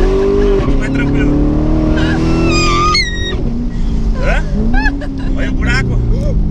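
A Corvette accelerates hard in a straight line with a loud engine roar rising in pitch through gear changes. People talk and exclaim over it inside the car.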